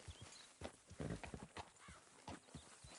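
Hooves clop in an uneven walking rhythm on firm ground, fairly close, with some rustling and a faint snort among the steps.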